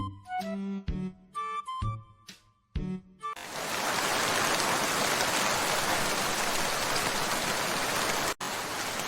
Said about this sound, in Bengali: এইবার বৃষ্টি করা যাক